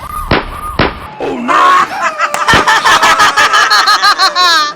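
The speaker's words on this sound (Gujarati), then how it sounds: "જો જો આમથી ધડાકા થાય" Firecrackers burst at a lively outdoor gathering as a few sharp, loud pops under excited shouting and laughing voices close by.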